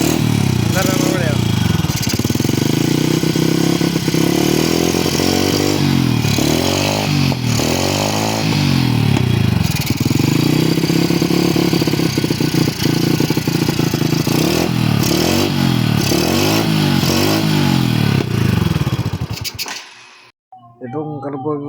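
A Honda Wave100 motorcycle engine, under repair for weak spark and low compression, runs steadily close by and is repeatedly revved in rising and falling surges before cutting off near the end.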